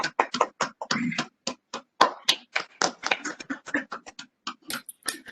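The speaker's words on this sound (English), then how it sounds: "let's have a round of applause for everyone" Scattered applause at an online monthly meeting: irregular individual claps and taps come close together in quick bursts, dry and near, with no talking over them.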